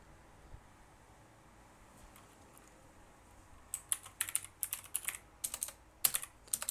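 Keys clatter on a UK computer keyboard in uneven bursts after a near-silent start, each run a few rapid close clicks separated by brief gaps, soft overall with no speech.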